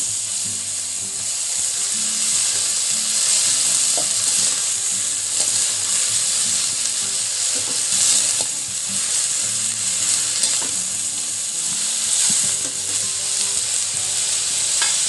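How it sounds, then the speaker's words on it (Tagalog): String beans (sitaw) sizzle steadily in a pan with onion and garlic, a continuous loud frying hiss with occasional stirring clinks, no voices. "Lagay ko muna yung sitaw"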